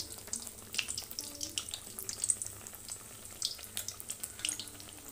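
Milk pua batter frying in hot oil in a pan, a steady soft crackling sizzle with scattered sharper pops throughout, close and moderately quiet, no talking.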